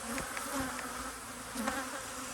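Honey bees buzz around an apiary hive, a close, steady insect drone with individual bees swelling louder as they pass near, no voices present.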